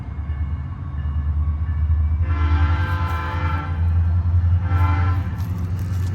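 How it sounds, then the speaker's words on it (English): A train rumbles steadily nearby a cemetery in Lake Mary, Florida, with a low continuous drone and two louder hissing swells of rail noise as cars roll past. "do you hear that? Now that's the train."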